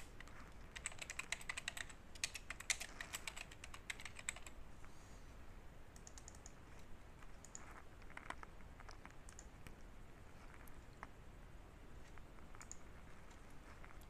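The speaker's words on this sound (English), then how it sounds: "And now simply type your text." Rapid typing on a computer keyboard while entering text for an image watermark in Photoshop: dense bursts of key clicks at first, then sparser, quieter taps, close and fairly faint with no talking.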